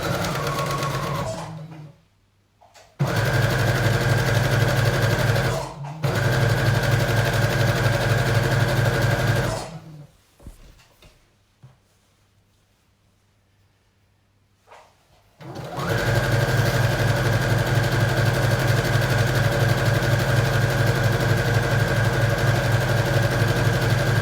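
Sewing machine running in steady bursts as it stitches a 1 cm seam in black jersey fabric, loud and close, with short pauses and one longer stop between runs.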